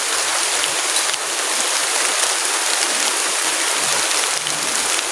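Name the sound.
heavy rain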